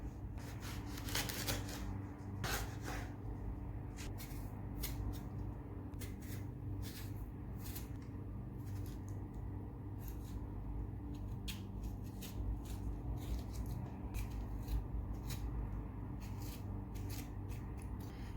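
A knife cuts peeled, washed yellow cucumber into small pieces, giving irregular close taps and soft slicing scrapes, a few sharper clusters early on, over a quiet, steady background.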